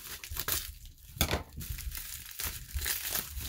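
Crinkling, crunching plastic and paper packaging as a mail package of baseball cards is cut and pulled open with scissors, close up, in irregular bursts.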